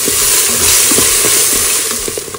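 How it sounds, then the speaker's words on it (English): Ginger garlic paste and fried onion paste sautéing in a pan, a loud, dense, continuous sizzle broken by soft scrapes and knocks of the stirring spoon. "Saute this well."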